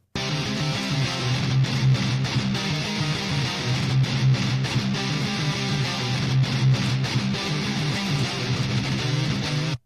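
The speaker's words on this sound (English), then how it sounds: "2 distinct, powerful guitars making a wide stereo image, we've got 2 roaring blobs of fizz fighting each other" Dense, wide wall of double-tracked high-gain distorted electric guitars playing continuously, thick and fizzy with a heavy low end, loud and steady throughout.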